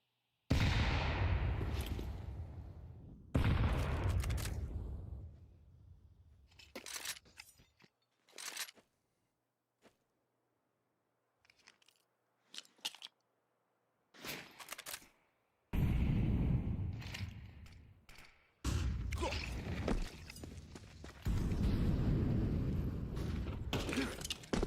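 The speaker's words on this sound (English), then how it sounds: "about every nade in the world has been thrown" Grenades and other utility thrown and going off in a Counter-Strike match, several loud bursts and blasts separated by near-silent gaps, with short clicks and swishes between them.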